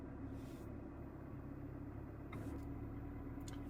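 A Honda car's engine idles steadily with a low, even rumble at close range, carrying no speech.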